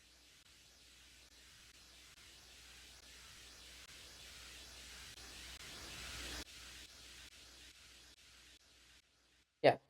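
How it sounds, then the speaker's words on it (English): A Serum synth riser of flanged, delayed white noise swells steadily in a hissing, sweeping wash, drops back and fades, then ends with a short loud burst. "Yeah, some flangy delayed white noise."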